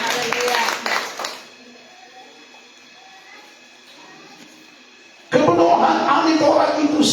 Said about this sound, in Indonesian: Kita tepuk tangan bagi Tuhan Yesus.